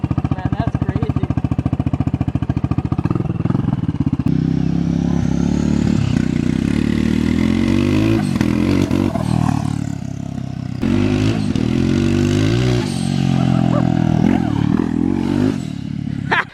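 A Turbo Raptor ATV engine revs and drones loudly and continuously nearby in a yard, rising and falling in pitch with clattery mechanical noise, while people talk over it.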